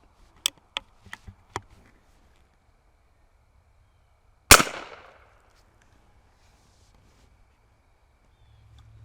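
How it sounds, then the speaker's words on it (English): CCI .22lr shotshell fired at targets outdoors: a few faint, quick clicks, then a single loud, sharp report that decays briefly before quiet returns. "I'm going to shoot these one at a time"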